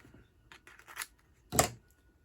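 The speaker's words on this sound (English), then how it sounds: "Scissors." Several quick snips of scissors through paper, the last one louder and sharper, separated by short quiet gaps, close by.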